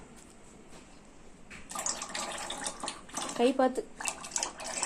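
Lye solution for homemade soap being poured through a strainer, a brief splashing trickle of liquid rising partway in, with a person speaking over it.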